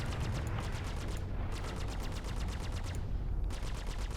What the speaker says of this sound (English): So let's start firing at this guy.